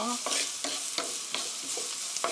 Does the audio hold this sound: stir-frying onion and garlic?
yes